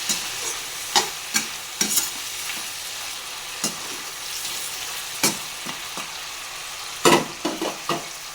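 Chicken curry ingredients fry with salt in a pan, a steady sizzle broken by sharp scrapes and knocks of a spoon stirring at irregular intervals, close up with no talking.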